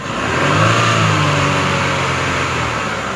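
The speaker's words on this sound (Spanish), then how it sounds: "Voy a acelerar." A Chevrolet Aveo engine revs steadily and loudly for a few seconds as the throttle is pressed during a sensor check, a close, continuous engine roar with no talking.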